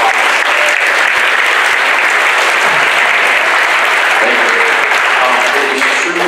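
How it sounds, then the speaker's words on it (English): A large audience claps steadily and loudly throughout, a dense continuous wash of applause with no pauses, at a Black History celebration as a speaker is introduced. "a round of applause"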